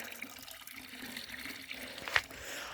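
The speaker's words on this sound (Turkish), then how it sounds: "Çeşmenin başına geldi arkadaşlar bakın." Ice-cold spring water runs steadily from an outdoor fountain on a nature walk, a soft continuous trickle heard at moderate distance with a brief louder splash near the end.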